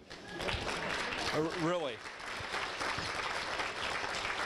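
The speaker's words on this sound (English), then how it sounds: "go ahead, applaud" Banquet audience at a small-town Chamber of Commerce annual dinner applauds in a steady, dense wash that fills the whole stretch, with a man's brief spoken word cutting through the middle.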